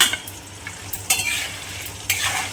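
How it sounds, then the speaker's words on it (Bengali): Katla fish heads fry in oil with a soft steady sizzle, broken by a few sharp scraping stirs of a spatula in the pan, close and fairly quiet. "আমার কাতলা মাছের মাথাগুলো ভাজা হয়ে গেছে"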